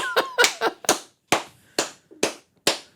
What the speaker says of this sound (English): Is that your sarcastic clap?